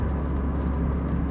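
Steady low engine drone and road rumble from inside a Toyota MR2 on the move, a continuous, even hum with no talking.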